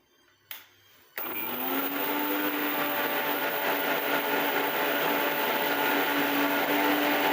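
A mixer grinder powders mustard and black cumin seeds, starting with a short rattle and burst, then settling after about a second into a loud, steady, continuous whirring grind with no talk.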